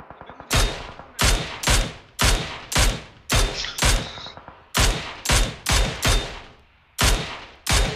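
Bursts of gunfire in the PUBG Mobile game on the Erangel map, about a dozen loud, sharp shots in uneven clusters with short gaps, close and dry, no talk over them.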